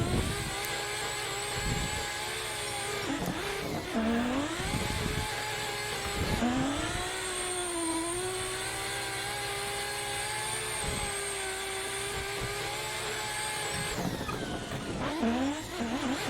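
Simulated car engine in a racing sim game, drifting on a high-speed competition-style track, steady loud droning with rising and falling revs and brief dips at gear changes or slides, continuous throughout.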